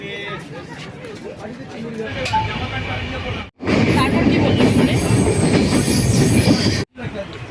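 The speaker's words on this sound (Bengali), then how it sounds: "রাধিকাপুর ঢুকছে আমরা এই ট্রেনটাতে উঠব উঠে আমরা যাব মালদা" A train rumbles into Radhikapur station in West Bengal, India, with squealing wheels and rhythmic clatter, loud and close, while people talk over the noise.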